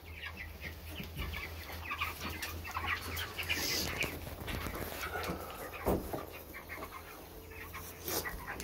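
Chickens cluck and chatter continuously inside a coop, close and moderately loud, with scattered squawks over a low background hum.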